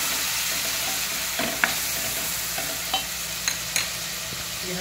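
Urad lentils frying in a pan with garlic, ginger and spices, a steady close sizzle with several sharp scrapes and taps of a stirring spoon.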